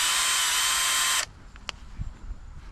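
A cordless drill in drill mode, used for interior car detailing, whines loudly and steadily for just over a second, then cuts off, leaving faint room noise and a couple of small clicks.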